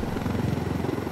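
A helicopter in the video game Ghost Recon Wildlands whirs with a steady, rhythmic rotor chop and low engine drone, continuous and fairly loud with no talking.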